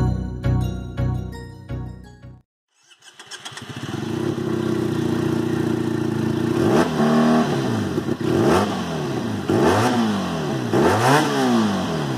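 After a brief pause a Benelli 302R motorcycle engine fires up, idles, then revs repeatedly in sharp rising and falling bursts, loud and near.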